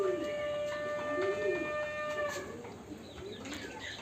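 Pigeons coo in soft, low, repeated phrases close by, with a few thin whistling tones above and steady background noise running through.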